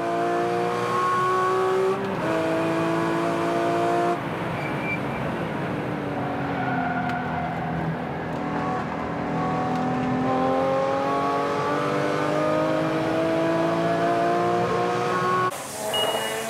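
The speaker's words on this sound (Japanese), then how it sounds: "ホリンジャーのクロスミッションを採用することで、バックストレートではきっちり5速まで入っている" Midship race car on the Tsukuba circuit back straight, running a Hollinger close-ratio gearbox, screams through upshifts into fifth gear, a loud sustained engine note with each shift dropping and climbing again, a short squeal near the end.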